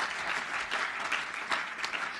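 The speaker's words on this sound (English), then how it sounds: "yes, we can clap again for that" An audience at a human rights anniversary celebration claps steadily, with dense, even applause and a few louder individual claps that sound slightly distant.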